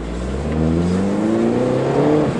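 A tuned Mini race car drives a track at speed, its engine droning steadily with rising harmonic tones as it accelerates, loud and close throughout.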